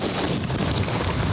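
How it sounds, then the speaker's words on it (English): Strong wind gusts buffet the microphone outdoors after a storm, a loud, continuous roaring rush with uneven swells. "We're getting some of those strong gusts at time"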